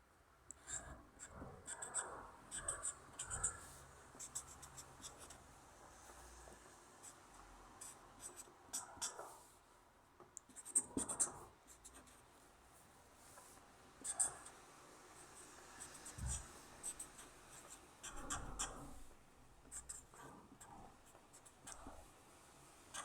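A pen scratches and strokes across paper while drawing and coloring, irregular quiet scribbling bursts close up, with soft whispered talk at times.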